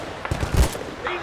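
Gunfire in Battlefield Bad Company 2, a short cluster of heavy thumping shots bunched close together, loud and near, followed by a brief fading rumble.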